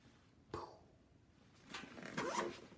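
A short sharp rasp near the start, then a longer scratchy zipper pull running for about a second, close by with no talking.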